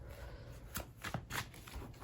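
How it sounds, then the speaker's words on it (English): A few quick, soft riffling bursts of a tarot deck being shuffled close by in a quiet room. "Giving this a quick shuffle."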